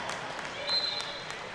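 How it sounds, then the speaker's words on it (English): Gym crowd at a girls' regional semifinal basketball game applauds as a player checks out, a brief, moderately loud spread of clapping mixed with crowd noise and talk. "listen to the round of applause as Sever checks out of the game"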